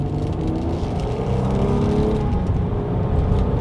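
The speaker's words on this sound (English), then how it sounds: "Let's do a quick little acceleration here and let's see how quickly we can get this new 2020 Nissan Murano up to speed." A 2020 Nissan Murano with a naturally aspirated V6 and CVT accelerating from a rolling start, its engine a steady, loud droning whir heard from inside the cabin, with no voices.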